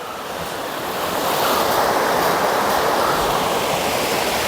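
Clear water from the Thusharagiri waterfall stream in Wayanad, in summer, rushes in a steady, loud broadband wash that swells slightly after the first second and then holds constant, with no voices.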